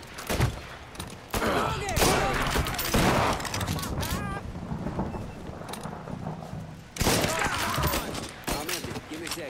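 Gunfire in a Mafia III firefight: bursts of rapid automatic and single shots crackle close and loud in several clusters, with shouting voices mixed in between the volleys.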